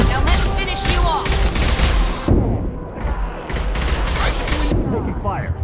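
Rapid bursts of gunfire during a firefight in the video game Mass Effect 2, loud and dense, with sustained volleys and brief gaps, game voices and effects mixed in.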